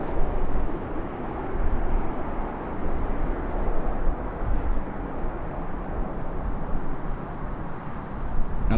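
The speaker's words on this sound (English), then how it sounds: "Let's see how well this landing goes." Ryanair airliner landing at Birmingham Airport, a steady broad roar of jet engine and rushing air that holds at an even, fairly loud level throughout, with no talk.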